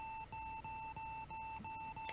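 Steady repeated electronic beeping from Axiom Verge, evenly spaced high tones about three per second, fairly loud and alone.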